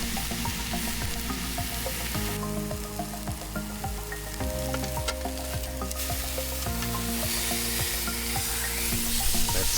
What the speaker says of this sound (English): you will need to sear the pork on all sides to keep the flavour in the meat